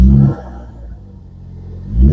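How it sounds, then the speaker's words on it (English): A 2013 Ford Focus ST with a turbocharged engine revs loudly and close by, with a deep throaty burst at the start, a lower rumbling settle in between, and a second rise at the end. "Turbo noises."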